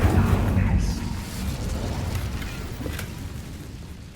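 An Incendio fire spell cast in Hogwarts Legacy, a low whooshing burst at the start that fades into a rumbling crackle and dies away over a few seconds.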